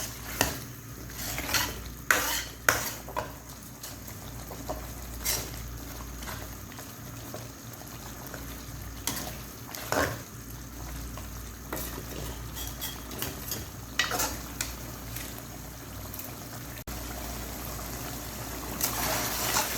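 Mutton masala being stirred and roasted in a pan for karahi, with a spoon repeatedly clanking and scraping against the metal, sharp clatters over a faint sizzle of cooking.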